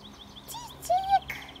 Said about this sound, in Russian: Ой, птичка-то у нас на дереве чирикает.